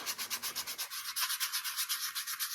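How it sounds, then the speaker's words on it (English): Sandpaper rubbing acrylic paint off a sculpted wooden panel in steady, rhythmic back-and-forth strokes, close and fairly quiet, with no voices. "So I'm just going to sand this off."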